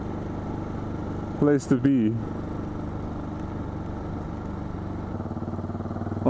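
KTM 690 Duke single-cylinder motorcycle idling at a Cameron Highlands resort, a steady low thumping rumble close by, with a rider speaking briefly over it.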